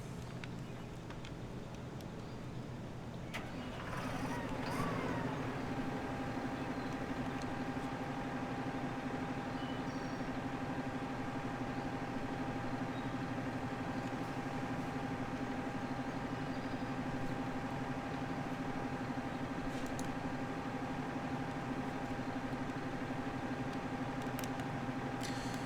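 A tractor engine in the video game Farming Simulator 15 starts up after a brief quiet moment, then settles into a steady, faint, droning hum with constant tonal whine that runs unchanged to the end.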